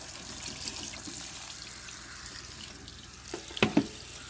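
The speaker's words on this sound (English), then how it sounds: "I just put them in a colander and rinse it off real good" Canned beans rinsed under running tap water in a colander, a steady close rush of flowing water with a few soft knocks and clatters near the end.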